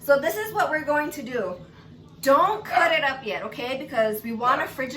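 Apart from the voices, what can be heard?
No everyday noise stands out behind the speech.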